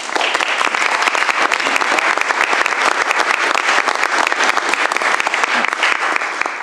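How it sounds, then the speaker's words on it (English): Loud, dense audience applause fills a Kane County Board meeting room, many people clapping steadily and close at hand, with no talk over it. "I don't think I've ever heard applause at a presentation"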